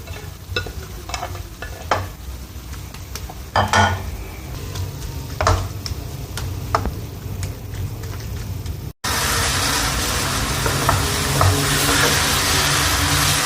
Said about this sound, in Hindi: ये मसाला हमारा भुन गया है। अब हम इसमें बैंगन डाल देंगे।